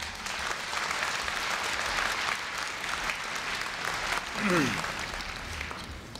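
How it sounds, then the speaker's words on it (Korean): An audience at a Korea University 2015 freshman entrance ceremony applauds to welcome the university president, a steady, full round of clapping from a large crowd lasting throughout. "염재호 총장님을 뜨거운 박수로 맞이해 주시기 바랍니다"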